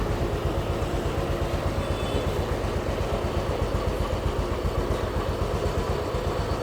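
A restored vintage Royal Enfield motorcycle engine runs steadily at idle, a close, even thumping rumble with mechanical clatter that continues without a break.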